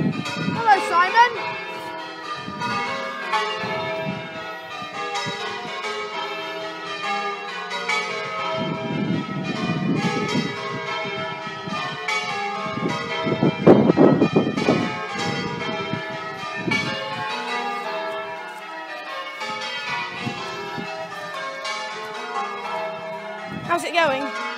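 Church bells ring continuously from a bell tower, a dense, loud peal of overlapping strikes and ringing tones filling the whole stretch without talk.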